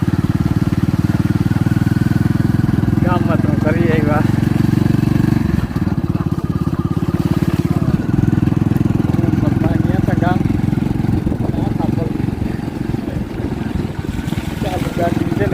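Motorbike engine running close by on a rainy village day, a loud, steady low drone with a faint rhythmic pulse that continues while someone talks over it.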